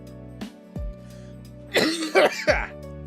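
A person's voice over a quiet background hum breaks into a cluster of rough, close coughs from a cold near the end, mixed with strained vocal sounds.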